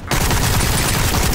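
Rapid gunshots in a round-based survival video game, a loud, dense burst of repeated fire that fills the whole short moment.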